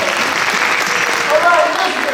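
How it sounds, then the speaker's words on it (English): A theater audience gives a round of applause, a short burst of dense, lively clapping that swells slightly toward the end, with some voices mixed in. "let's give him a round of applause."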